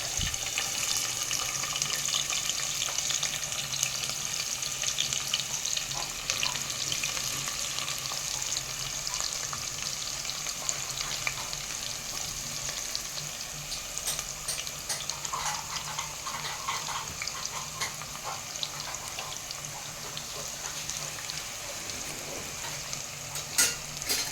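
Onions fry in hot oil in a pan for a Birakaya (ridge gourd) curry, giving a steady, close, continuous sizzle with scraping stirs throughout and no talking.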